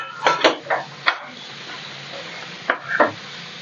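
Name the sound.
liver and spleen frying in a pan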